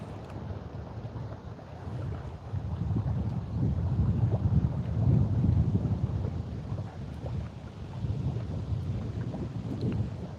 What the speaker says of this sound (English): Can you guys hear the wind noise at all?